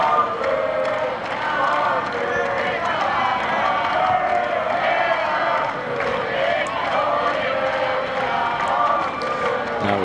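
Crowd noise from a tennis match between Agassi and Nalbandian at the 2003 Masters, a steady loud murmur of spectators throughout, with commentators talking over it.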